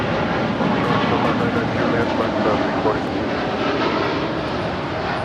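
An airliner lands at a big city airport, its engine roar a steady broadband rumble that fills the whole stretch at close range. A voice talks over it.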